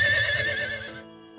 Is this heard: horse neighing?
yes